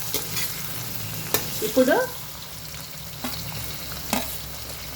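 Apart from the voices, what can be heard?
vegetables frying and being stirred in a pan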